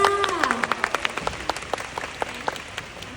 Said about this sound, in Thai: เอาปรบมือก่อนเลยค่ะ